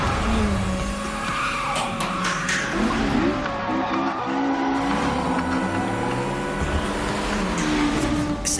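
Race car engines roar continuously with rising and falling revs, and tires squeal and skid through the middle as the cars brake hard, in the anime Initial D.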